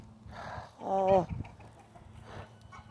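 A rooster and hens on a homestead give short clucks, with one louder, drawn-out cluck near the middle, close by among soft background noise and faint voices.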